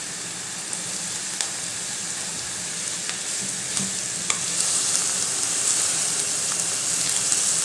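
Steady sizzling of onion and carrot frying in a pan, a continuous crackling hiss with occasional soft pops and scrapes, close and fairly loud, with no talking.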